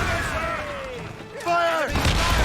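Ship cannon fire during a naval battle in Assassin's Creed Rogue: a heavy boom breaks out near the end, after shouted voices carry over rumbling game background.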